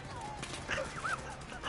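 A dog in the video game Far Cry 5 lets out faint, high whimpers after being run over, short whiny cries set among low background game sounds.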